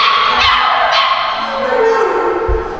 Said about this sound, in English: Here we have a litter of puppies. They are pit mixes.